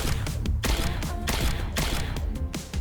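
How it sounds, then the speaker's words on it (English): Luna's gun in The First Descendant firing in a steady rhythm of sharp, loud shots, close and clear with no talk over it. "So you can go ahead and start shooting"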